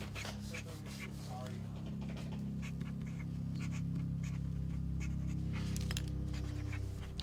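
Dogs pant rapidly and steadily up close, with a few soft whimpers and rubbing noises mixed in, under faint background talk.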